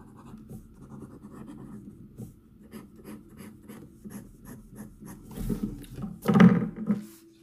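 A Sailor-style medium fountain pen nib scratches across paper in close, steady strokes, a soft rasping rhythm that grows louder and rougher toward the end.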